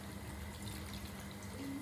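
White wine poured into a pan of clams for spaghetti alle vongole, a steady soft liquid pour and faint sizzle running continuously at low level with no talk.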